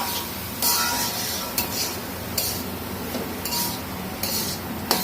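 A spatula scrapes and clinks against a pan while stirring radish fry, in bursts of rasping strokes over a low cooking hiss, close and fairly loud.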